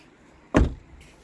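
The door of a Suzuki Hustler kei car is shut once, giving a single solid thud up close followed by a faint rattle as it settles.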